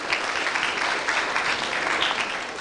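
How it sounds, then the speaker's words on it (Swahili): An audience at a Kenyan Muslim awards gathering applauds, a dense, steady wash of many hands clapping with no voices over it. "So a big round of applause for him please."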